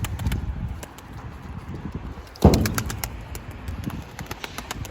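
Young pigeons, a gray Gök and a speckled Gökbenekli, coo softly in a loft, with low rounded calls repeating under steady background noise and one louder rustling burst midway.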